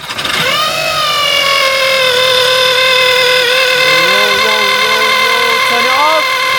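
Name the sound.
VW Eos 2-litre turbo engine running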